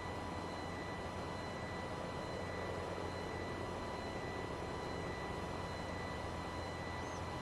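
Jet aircraft flying over in Farming Simulator 22, a steady broadband engine roar that holds constant for several seconds, loud and continuous with no speech.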